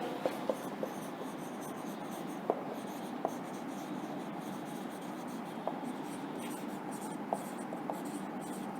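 Pen or marker writing keywords by hand on a board in a classroom, a steady scratchy scrawl with occasional sharp taps, close and continuous with no one speaking.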